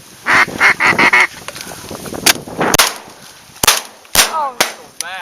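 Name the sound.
ducks calling during a duck hunt in a blizzard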